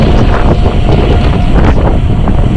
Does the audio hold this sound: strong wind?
yes